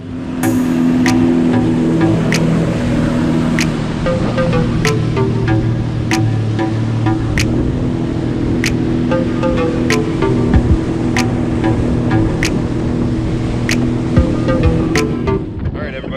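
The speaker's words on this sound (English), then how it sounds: "Hopefully you could hear anything with all this wind." Wind roars across the microphone on a Sea-Doo GTX 230 Custom Fish Pro out on a lake, a constant blustery rush over engine and water noise, with regular sharp ticks repeating throughout.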